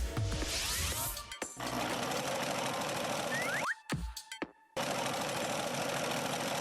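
Cartoon sewing machine running in a steady, loud mechanical whir, cut off by two brief silent gaps before resuming.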